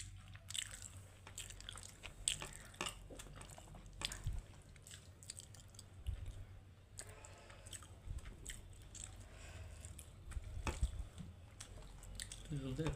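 Chewing and biting into pitha, Bengali rice cake, at home: soft repeated crunchy bites and moist mouth sounds, close and fairly quiet, with occasional voices in the background.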